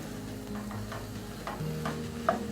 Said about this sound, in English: Give that a stir and get that all incorporated.